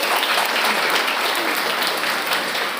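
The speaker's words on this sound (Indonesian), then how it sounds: "Tepuk tangan untuk kita semuanya hari ini." Dense, steady applause from a large crowd at a motivational session in an Islamic boarding school, loud and continuous with no pauses.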